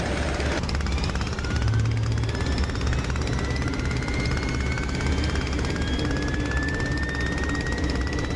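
Steady propeller engine drone of a Sopwith Camel WWI biplane in flight in the DCS flight simulator, a continuous loud rumble with a slowly rising whine, no talk.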